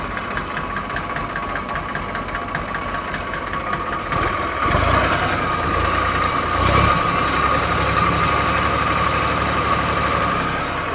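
A New Holland 3037 tractor engine idles steadily up close for about eleven seconds, with a constant rough chug and a brief rise in intensity partway through. No one speaks.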